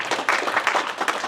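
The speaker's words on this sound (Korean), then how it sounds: "우리 박수로 환영합니다" A church congregation at a Sunday service applauds to welcome visitors, giving a burst of steady, dense clapping from many hands in a room, with a voice faintly mixed in.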